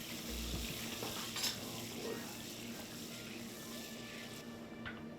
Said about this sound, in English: we're going to add 5 tablespoons of margarine and we're going to melt this